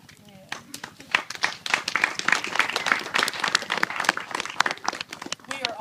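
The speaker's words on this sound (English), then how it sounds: "We are all cheering" A group applauds and cheers at a Christmas party held in support of Alex, with dense clapping that rises quickly and stays loud and uneven to the end, voices mixed into the noise.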